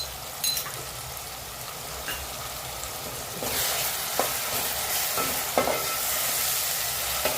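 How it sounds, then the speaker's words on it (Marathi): Masala paste sautéing with onions in a pan for a prawn curry, a steady close sizzle with occasional scrapes and stirring clicks, growing louder and busier partway through, with no voices. "परतवून घेऊया त्याला कांद्यासोबत."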